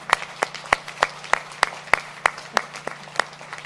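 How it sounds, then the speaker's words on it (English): Audience at a press conference applauding, a sparse, moderately loud run of individual claps with a few sharp standout hands, steady rhythm and no talk over it. "you deserve a big round of applause"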